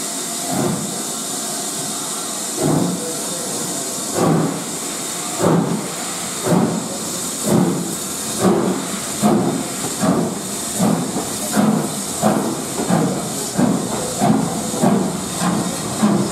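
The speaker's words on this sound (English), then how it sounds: "The Britannia Pacific Oliver Cromwell now takes the next train bound for Rothley" The Britannia Pacific steam locomotive Oliver Cromwell gives off loud steam hisses, then settles into rhythmic exhaust chuffs that grow quicker and more regular as it pulls away with its train, with no talking.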